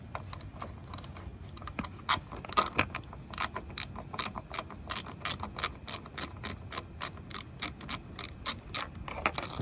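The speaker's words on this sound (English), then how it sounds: "we're going to use our 10 millimeter ratchet, and we have to make sure that it's going counterclockwise in order to remove that" A 10 millimeter ratchet turning counterclockwise to remove a mudflap bolt on a Tesla Model 3, a rapid steady run of close, sharp clicking pawl ticks in even rhythm, no talking.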